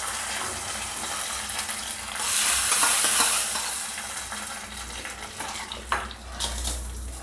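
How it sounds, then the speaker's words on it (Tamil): Idli sambar is stirred in a pot after curry leaves go in. A brief burst of loud hissing sizzle is followed by a quieter bubbling simmer, with a few clinks of the spoon against the vessel. "கலக்கி விட்டு ஒரு 2 நிமிஷம் இருக்கட்டும்."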